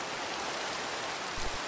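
Steady rain in Minecraft, heard as a dense, even hiss of falling water with no breaks and no voices.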